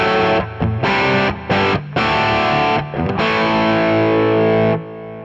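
Electric guitar running through a KT preset on STL ToneHub, a Klon and a Timmy overdrive ahead of the amp, plays loud distorted chords in short bursts and then one long sustained chord that cuts off near the end.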